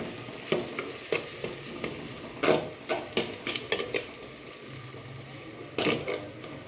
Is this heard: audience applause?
no